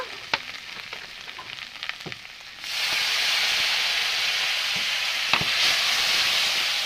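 Spices and secret masala sizzle in a pan while cooking fish, at first a few faint clinks of stirring, then a strong steady hiss as a little water hits the hot pan, close and continuous, with no talking.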